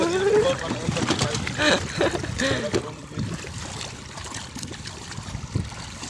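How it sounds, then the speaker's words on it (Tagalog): Waves slosh and splash nearby in a continuous watery wash, with voices talking over it. "So, medyo malaki-laki yung alon guys."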